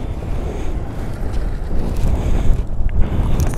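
Strong wind roars on the road to Pangong Lake, a loud, continuous rumbling buffet against the microphone that swells slightly toward the end, with no voices.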